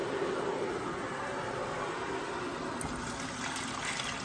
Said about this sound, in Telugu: ఇప్పుడు ఈ గ్రేవీలో మనం మరుగుతుంది కదా, వాటర్ వేద్దాం.